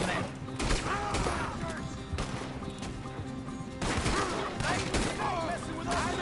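Gunfire in Red Dead Redemption cracks out in repeated bursts and volleys amid thuds, mixed with shouting voices in a busy firefight.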